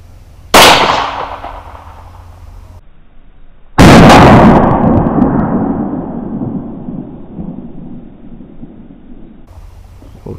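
A Glock 17 pistol firing NRC 9mm 129-grain FMJ rounds at a 15-metre range: two loud, sharp gunshots a few seconds apart, each followed by a long, rumbling echo that slowly decays.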